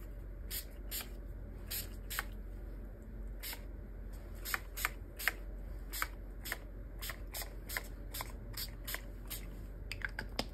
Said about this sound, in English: Those were distress oxide sprays, and I used spice marmalade and abandoned coral on that